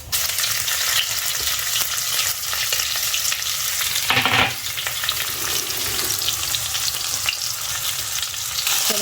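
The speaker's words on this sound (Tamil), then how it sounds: "நம்ம கட் பண்ணி வச்சுருந்த வெங்காயத்தை ஆட் பண்ணிவிட்டு நல்லா வதக்கிக்கலாம்." Onions sautéing in oil with fennel and cumin make a loud, continuous close sizzle, with a brief burst of stirring partway through and no voices.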